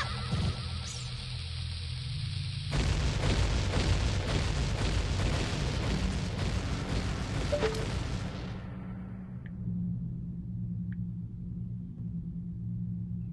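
Explosions in Dodongo's Cavern in a Zelda video game, a sudden blast that turns into a long rumbling roar and fades away to quiet game ambience.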